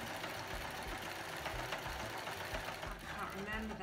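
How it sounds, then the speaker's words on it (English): A sewing machine runs a zigzag stitch along the raw, pinked edges of fabric bunting triangles, a steady mechanical whirr with a faint rhythmic knock under a voice. "now I'm just going to do a zigzag on the raw edges"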